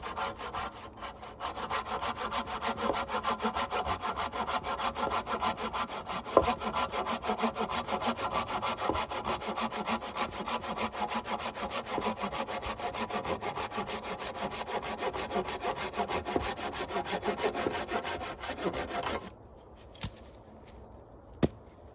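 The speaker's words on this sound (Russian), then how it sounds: "Пока я занимался дровами, пилил, рубил" Steady rhythmic strokes of a hand saw cutting firewood outdoors at a winter forest camp, close and continuous for most of the stretch, then stopping abruptly near the end, leaving quiet with a couple of faint knocks.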